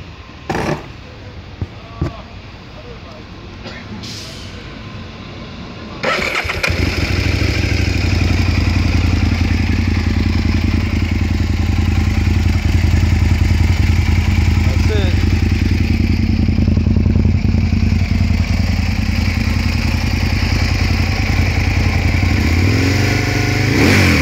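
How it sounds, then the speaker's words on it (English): A 2004 Aprilia RSV1000 motorcycle engine cranks over with a few short clicks, catches and starts, then idles loudly and revs in a rough, steady roar close by for the rest of the clip. "Let me crank it up real quick."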